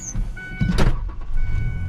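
A Ford V6 pickup truck with 194,000 miles and a small exhaust leak cranks briefly and catches, then settles into a low, steady idle heard up close with no speech.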